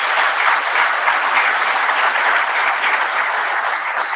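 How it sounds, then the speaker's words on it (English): An audience at an ICTAZ event applauds for a president, a steady, even wash of clapping from many hands that holds close and full for about four seconds. "May we clap for this."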